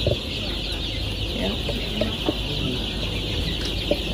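Free-range chickens on a poultry farm in Ghana cluck in short scattered bursts over a steady background hum, fairly close by.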